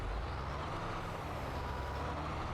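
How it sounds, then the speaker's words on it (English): A tractor engine drones steadily and loudly throughout a sugar beet harvest in Farming Simulator 22, a continuous dense rumble with no distinct brake hiss and no talking. "Heard the brakes there. There's the engine sound."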